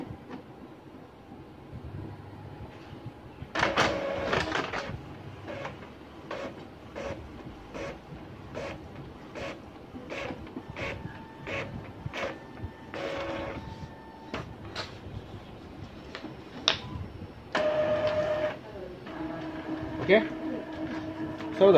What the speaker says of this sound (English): now I already try to power on the printer